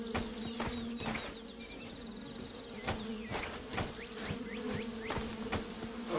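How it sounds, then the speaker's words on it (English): Bees buzzing in the medieval video game The Vale: Shadow of the Crown, a continuous drone with repeated sharp sweeps as insects fly past close by, fairly quiet, with no talk. "I hear the bees. I don't see them."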